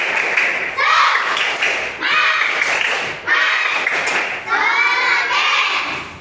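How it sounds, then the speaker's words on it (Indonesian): Children in a classroom clap hands together in a rhythmic cheer-clap during a lesson on plant parts, loud bursts of patterned clapping in several groups, with the children's voices chanting along between the claps. "Tepuk semangat dulu buat kita semua"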